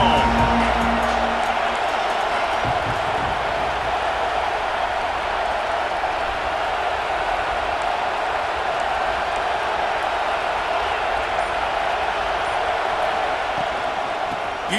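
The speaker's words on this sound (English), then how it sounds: "This crowd ready to make its presence known." Stadium crowd noise in the video game EA Sports College Football 26: a steady, dense roar of fans that holds at an even, loud level throughout without breaks.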